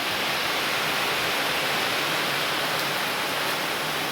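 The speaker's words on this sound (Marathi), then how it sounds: "एकदम भयानक पाणी." Very heavy rain pours down outdoors in a steady, dense roar, loud and unbroken throughout, with no voices over it.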